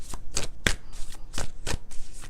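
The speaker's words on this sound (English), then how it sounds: "if a card ever jumps out when you're drawing cards" A tarot deck shuffled by hand in several distinct strokes, each a short papery swish about every third of a second, close and fairly loud with nothing else heard.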